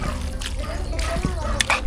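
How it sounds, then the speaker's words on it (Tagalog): Water poured into a pot of kaldereta made with offal such as liver, intestine and lung, bell pepper and spices, a steady splashing pour running nearly two seconds, close and fairly loud, with background voices over it. "Lagyan na po ng tubig."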